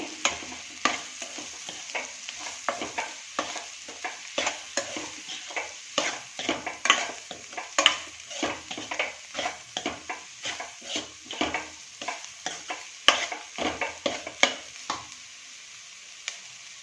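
Raw jackfruit is sautéed and stirred in a pan, with a continuous sizzle under dense, rhythmic scraping and tapping of a spatula against the pan, steady and close with no voices.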